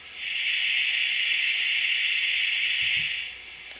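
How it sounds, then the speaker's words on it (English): Cylinder drain cocks venting on a Bachmann 009 Double Fairlie model steam locomotive's DCC sound decoder, a continuous loud steam hiss lasting about three seconds that then cuts off, with no talk. "Number 3 is the cylinder drain clocks."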